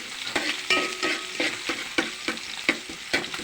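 Oil sizzles steadily in a pan as vegetables fry with onion and garlic, while a utensil stirs and scrapes repeatedly in an irregular rhythm, close and fairly quiet.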